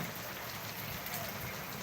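A brief stretch of steady rain over Dhaka during a thunderstorm, an unbroken, fairly loud wash of drops striking surfaces.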